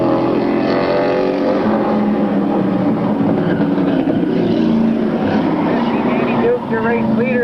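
A tightly bunched pack of race cars at a 1998 oval race roaring out of turn four on the green flag, a dense continuous engine roar from a distance under a commentator's voice.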